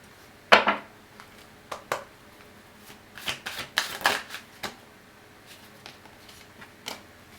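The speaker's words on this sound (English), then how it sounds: "I feel like you could just shuffle these." Cards are riffled and shuffled in several quick bursts, close and crisp, with short pauses between.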